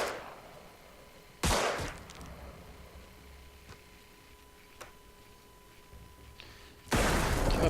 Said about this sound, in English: Up, and the C4 goes off.